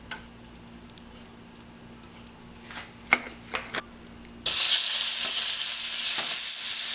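Diced mango hits a hot pan for sautéing in a mango salsa, bursting into a loud, steady, close sizzle after a few light clicks and taps of handling beforehand.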